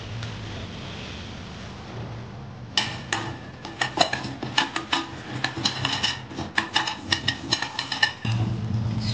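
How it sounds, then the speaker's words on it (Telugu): Fenugreek and mustard seeds roasting in a pan over a slow flame for a lemon pickle, starting as a low hiss and then breaking into rapid, dense crackling and popping ticks that continue to the end. "మెంతులు వేయించుకోవాలి స్లో ఫ్లేమ్లో."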